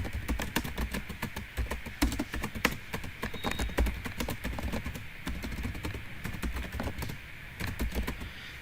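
Python code being typed on a computer keyboard, a close, continuous patter of rapid key clicks with short pauses, quiet and with no voices.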